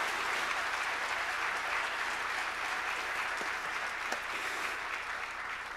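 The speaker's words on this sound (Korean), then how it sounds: "큰 박수로 격려하겠습니다" Steady, full applause from a church congregation at an early-morning revival service, dense clapping sustained at even loudness throughout with no talk over it.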